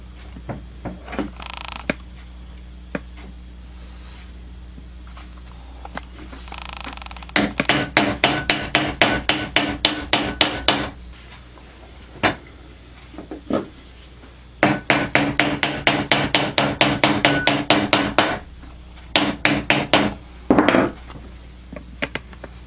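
Hammer blows strike leather armor eyelets set on a metal anvil, coming in fast rhythmic bursts of sharp metallic taps with short pauses between runs, close and loud with no talking.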